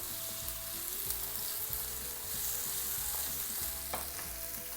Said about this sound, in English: I'm just gonna saute these around for a little bit.